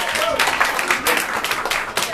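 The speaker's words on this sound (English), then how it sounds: "Round of applause." Steady applause from an improv showcase audience, a dense wash of clapping that holds for about two seconds with slight surges.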